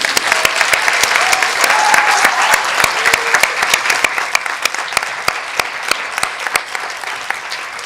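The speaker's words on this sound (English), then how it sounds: "we should give them, the candidates, a big round of applause right now." Audience applause for the candidates at a student presidential election debate, a steady dense wash of clapping hands that holds for the whole stretch with a few sharper individual claps standing out.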